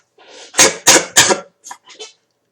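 Close, loud coughing from a man playing Lego Star Wars III: The Clone Wars: three hard, evenly spaced coughs in a row, followed by a couple of softer, shorter throat-clearing hacks, with silence around them.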